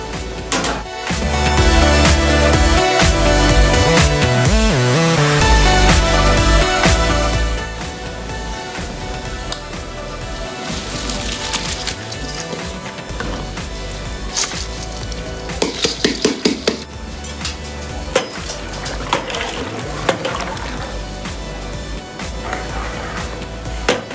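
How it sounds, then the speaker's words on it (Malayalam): Rice goes into a pot of boiling salted water for Kerala-style beef biryani: a loud rushing hiss and sizzle for several seconds, then quieter bubbling broken by scattered clinks of utensils against the pot. "അതിലേക്ക് നമ്മുടെ അരി ഇട്ട് കൊടുക്കാം"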